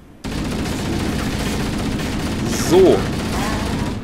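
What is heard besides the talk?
gunfire in the video game Halo CE Anniversary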